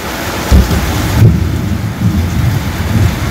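Thunder cracks and rumbles over a garden during a heavy storm, loud and close over steady rain, with several low booms in quick succession.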